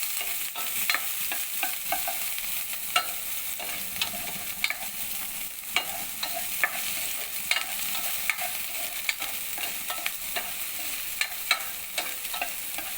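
Onion and garlic sautéing in a pan give a continuous soft hiss of frying. Scattered light clicks and scrapes of stirring break through it, fairly quiet and close, with no talking.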